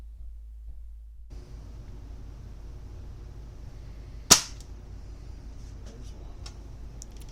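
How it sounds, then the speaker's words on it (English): A single crisp crack from a Diana Model 48 (RWS 48) air rifle fired at a 45-yard target, sudden and fairly close against a quiet outdoor hiss, followed by a few faint ticks. "This first shot was taken at a point where the wind was kind of quartering towards us."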